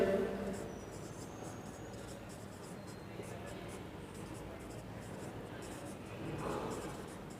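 Chalk or marker writing on a board during a chemistry lesson on hybridization and chemical bonding, a faint continuous scratchy rubbing that swells slightly near the end, with low background noise throughout.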